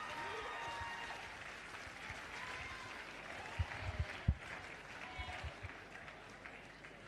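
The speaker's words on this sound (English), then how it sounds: "round of applause for Molly Simpson" An audience at an AFL medal presentation night claps for an award recipient, a soft, distant patter of applause with a few sharper nearby claps and a faint voice mixed in.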